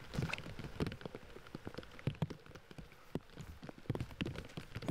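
Steady rain falls on an outdoor disc golf course, a dense, continuous patter of drops striking surfaces nearby, irregular and fairly loud throughout with no voices.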